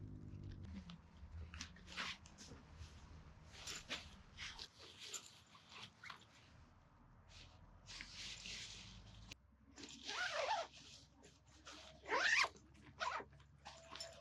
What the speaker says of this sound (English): to close up the food box in this zip poncho as well